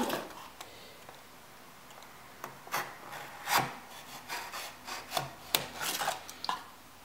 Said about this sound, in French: Donc simplement, on va venir couper à chaque angle.